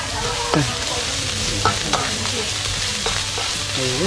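Spicy wild boar curry stir-fried in a wok over a wood fire, a loud continuous sizzle broken by sharp scrapes and clanks of the spatula, close and without talk.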